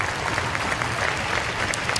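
An ice hockey crowd at a Cardiff Devils game applauds, a dense, even roar of clapping from a large arena audience that continues without a break.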